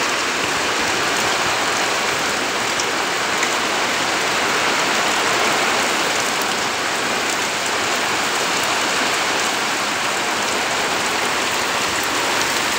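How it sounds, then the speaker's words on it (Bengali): Heavy rain pours down outdoors over a courtyard, a loud, unbroken hiss of drops on surfaces that holds steady from start to finish, without speech. "ভীষণ বৃষ্টি হচ্ছে, দেখো তোমরা শুধু।"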